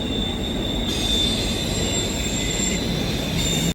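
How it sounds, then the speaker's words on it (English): A train passing near a lake in the Banff mountains, a loud, steady rumble of wheels on rails with high metallic squeal running throughout, close by, then cutting off abruptly at the end. "So obviously the train was quite loud"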